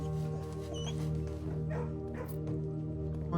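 Puppy in the Blue Prince video game kennel giving short yips and barks over steady tonal game music, fairly close and moderately loud.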